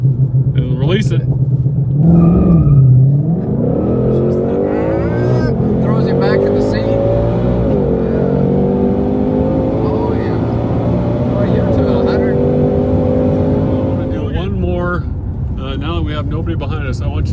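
A 2020 Ford Shelby GT500 launching from a standstill with launch control, its engine revving up loudly and then sustaining a steady roar from inside the car, while people talk over it near the start and end.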